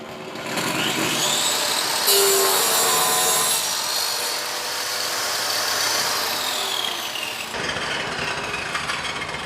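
Loud, close table saw cutting the end off a piece of wood, a whining buzz that rises and holds for several seconds before the blade note changes.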